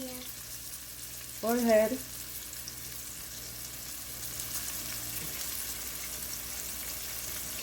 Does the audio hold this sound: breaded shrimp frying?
yes